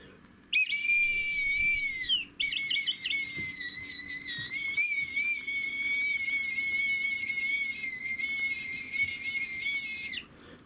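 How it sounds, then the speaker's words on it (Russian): A whistle is blown indoors in several long, shrill, warbling blasts separated by brief pauses. It is loud and sits alone over a quiet background. "Это свисток."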